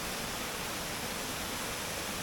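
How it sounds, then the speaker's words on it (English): Tangle Creek Falls spills over rocky steps in a constant, dense roar of falling water. The sound is steady and broadband, with nothing else heard. "The various steps the waterfall has, cascading over the rocks, the free falls in certain locations of the falls, the rapids in other areas"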